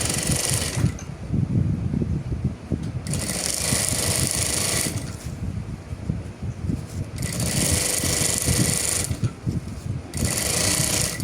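A sewing machine backstitching a seam on a toiletry bag, close rapid mechanical stitching that runs in several bursts of about two seconds separated by short pauses, no voices.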